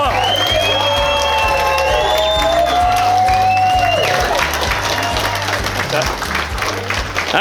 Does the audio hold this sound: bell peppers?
no